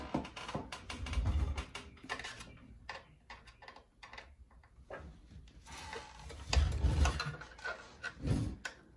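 Bolts are tightened on the plate of an espresso machine group head during a controller upgrade, heard as quiet ratcheting clicks and metallic mechanism sounds with soft thuds, close by and without talk.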